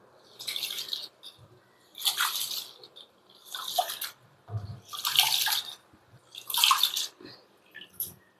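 Ration rice being washed in water by hand makes a series of splashing, swishing bursts with short pauses between them, close and fairly loud, with water sloshing and dripping throughout.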